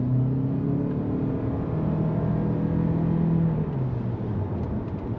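A Toyota C-HR with a 2-litre engine drives along a road, its engine hum rising and falling in pitch over a steady tyre rumble as it accelerates and shifts.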